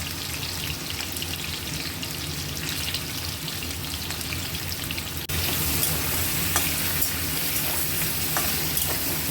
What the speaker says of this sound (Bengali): প্রথমে আমি পনিরটা হালকা ভেজে নেব।